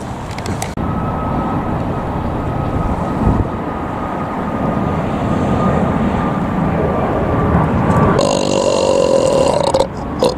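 Airliners pass low overhead near LAX, producing a sustained jet rumble and whine that builds loud and steady, with a sharper engine tone near the end.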